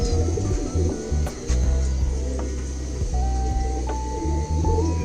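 A handsome male domestic pigeon of the tournament-flying kind coos in low, repeated throaty phrases. A steady background hum and a few faint chirps sit beneath it, with no talking.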